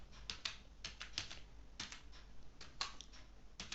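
Rapid keyboard typing while entering the TODAY formula into an Excel spreadsheet, a steady run of close, crisp key clicks with brief pauses between bursts.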